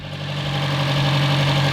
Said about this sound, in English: The car seems to be running a lot smoother now.